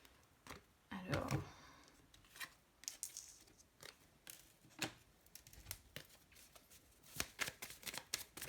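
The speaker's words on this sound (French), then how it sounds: "Je les remets très bien après, les cartes, parce que là, je vais les bouger de toute façon." Tarot cards are shuffled by hand in a stream of soft, papery riffles and flicks, with a denser burst near the start and quieter, scattered shuffles after it, close up and with no talk.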